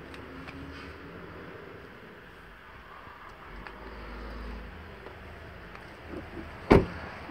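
The power sunroof of a 2015 Dodge Durango Limited AWD hums quietly as its motor runs for a few seconds inside the cabin, ending in a sharp click or thud.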